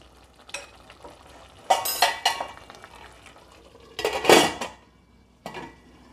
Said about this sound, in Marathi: कुकरचं झाकण लावून आपल्याला कुकरच्या 5 शिट्ट्या करून घ्यायच्या आहेत.